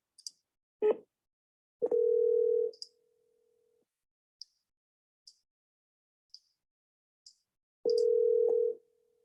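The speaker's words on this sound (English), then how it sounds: "Okay, so now let's make some phone calls here." A telephone dial tone during an outgoing call in Palm Bay: two steady tones of about a second each, separated by faint clicks and ticks, with a near-silent gap between them.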